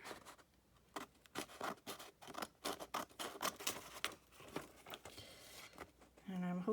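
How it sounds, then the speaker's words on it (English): Scissors snip along the edge of a paper page in a quick series of crisp cuts and rustles, close and quiet, with a soft voice speaking at times. "and cut along the edge of the page"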